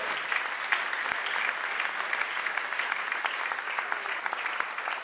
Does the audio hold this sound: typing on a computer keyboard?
no